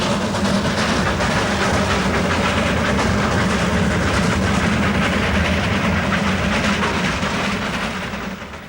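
Himalayan toy train hauled by a B-class engine running on narrow-gauge rails, a steady loud rumble of wheels with clickety-clack rhythm close by, fading slightly at the end.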